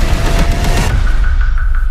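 A loud, dense explosion from a film, a sustained rumbling blast with crackling debris that fades into a ringing tail.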